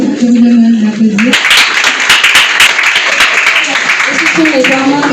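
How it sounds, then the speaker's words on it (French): Audience at a Haitian book-competition ceremony bursting into loud, sustained applause, dense clapping that follows a speaker's voice and carries on under more talk. "je vous demande d'applaudir"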